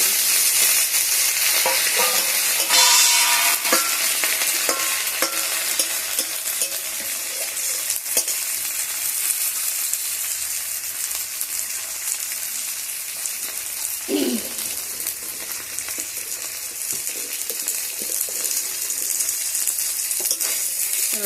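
Dried shutki fish frying and being stirred in a pan, a steady broad sizzle with scraping stirs throughout, close and fairly loud, no voices.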